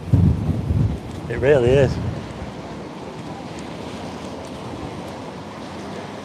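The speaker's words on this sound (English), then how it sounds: "That wind is really going right through me, you know." Strong wind buffets the microphone on the Blackpool seafront by North Pier, a loud rumbling roar at the start that settles into a steady gusty hiss, with someone speaking briefly over it.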